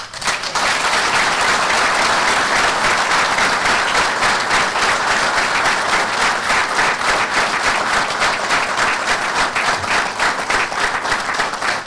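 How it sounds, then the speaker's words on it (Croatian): An audience applauds a commander at a formal ceremony marking Bosnia and Herzegovina's Independence Day in Zenica. The clapping is dense and sustained for about twelve seconds, with no talk over it. "je aplauz mom komandantu Sakibu Mahmuljinu."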